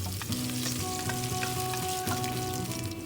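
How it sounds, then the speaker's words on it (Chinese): Whole peeled garlic cloves and ginger slices sizzle in oil in a heated clay pot over low heat, a steady close crackle with light stirring scrapes throughout. "倒入食用油，加入整个去皮蒜粒， 开小火慢慢炒至金黄"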